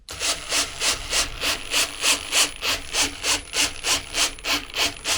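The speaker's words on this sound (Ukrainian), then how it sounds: "Зверніть увагу на патрон, якими пульсаціями він працює." A ProCraft CD20A cordless drill's chuck spins in pulse mode, giving a rapid, evenly spaced whirring pulsation, about three per second, close and steady throughout with no speech.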